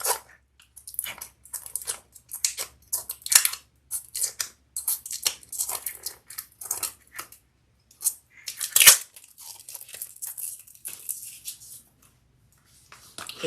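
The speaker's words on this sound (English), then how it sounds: "my purse class comes with little cellophane on the top, little plastic, so you want to take that off" Protective cellophane plastic being peeled off a leather wallet in progress: a series of close, crinkly tearing and crackling bursts in short irregular pulls, with one louder rip near the end and no talking.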